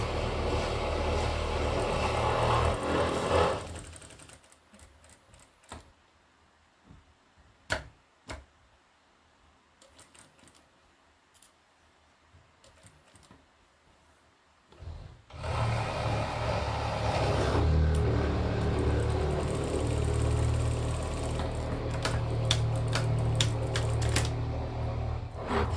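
A sewing machine stitches half square triangle quilt seams in two long, steady runs of rapid mechanical whirring and clatter, separated by a quieter stretch of faint handling clicks.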